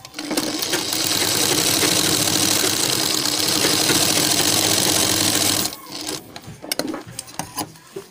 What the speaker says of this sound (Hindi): अब हमें इसको पूरी सिलाई यहाँ पर लगा देना है